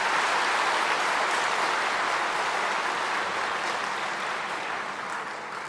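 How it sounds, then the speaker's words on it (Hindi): A large audience claps at a Deepawali celebration and 85th anniversary gathering of Brahma Kumaris, a continuous broad roar of hands that holds steady and then slowly thins and fades toward the end. "उनको भी जोर से ताली बजा करके अभिवादन करें।"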